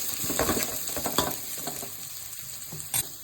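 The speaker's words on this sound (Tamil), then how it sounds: "2 பெரிய வெங்காயம் போட்டுக்கோம்ல, அதையும் போட்டு நல்லா வதக்கிக்கலாம்" Two large onions sautéing in hot oil in a pan for mushroom biryani, a loud close sizzle with a quick burst of stirring and scraping near the start, no talking.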